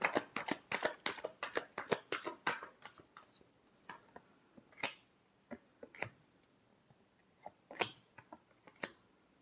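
A deck of tarot cards shuffled by hand: a rapid run of crisp riffling slaps at first, then slower scattered flicks and taps, close and fairly quiet, with no voices.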